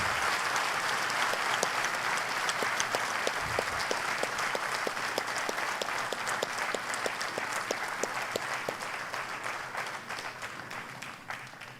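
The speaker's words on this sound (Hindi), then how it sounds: "मैं चाहता हूं आप सब एक बार तालियों से सम्मानित खड़गे जी का धन्यवाद करें।" An audience at a political gathering honoring Congress leader Kharge breaks into sustained applause, dense rapid clapping that stays loud and steady for about twelve seconds and tapers slightly toward the end, with no one speaking over it.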